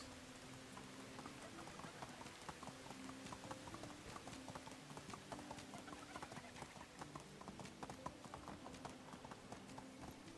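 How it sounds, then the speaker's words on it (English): In the video game Medieval Dynasty, donkey hooves clip-clop in a quick, steady rhythm, faint and continuous, with a rain-like patter layered over the hoofbeats. "Fastest donkey in the West."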